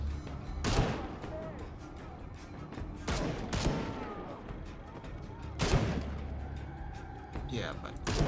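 Gunfire in a Tomb Raider game, a few loud sharp shots spaced a couple of seconds apart over a steady low rumble, with people talking throughout.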